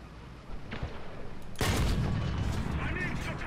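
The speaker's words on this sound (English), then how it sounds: "I shot his cannon barrel." Tank cannon fire in the game War Thunder, where an M46 Patton trades shots with enemy tanks: a sharp, heavy blast about midway through, followed by a sustained rumbling roar, with faint mechanical clatter before it and no speech in between.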